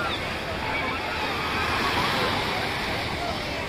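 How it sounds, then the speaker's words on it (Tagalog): Strong ocean waves break and wash continuously onto a beach, a steady loud roar of surf with wind buffeting the microphone throughout. "medyo malakas yung alon, no?"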